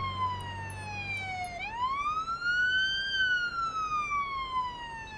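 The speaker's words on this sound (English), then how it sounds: "Is that the ambulance?" A synthetic emergency siren in the game Police Simulator: Patrol Officers wails in a long falling then rising sweep, steady and moderately loud, with faint beeps at the start.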